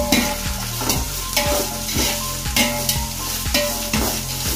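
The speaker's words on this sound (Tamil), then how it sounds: "வெங்காயம் நல்லா வதங்கி வரணும்" Sliced onions for a ghee rice and kurma meal sauté loudly in a pan, a steady sizzle broken by regular rhythmic scrapes and clanks of a stirring spoon roughly every half second, close up with no talking.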